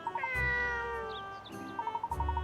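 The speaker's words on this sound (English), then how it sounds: "That's the cat I was chasing." Cartoon cat meowing in the puzzle adventure game Layton's Mystery Journey: a few clear meows, close and loud, over light game music with chiming notes.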